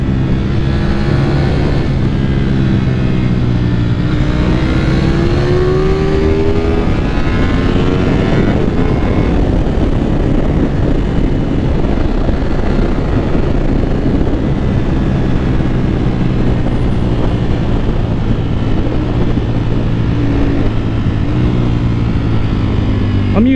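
A Ducati Panigale V4 S motorcycle engine while riding: a loud, continuous roar with rising and falling revs, overlaid by heavy wind rush, constant and close throughout.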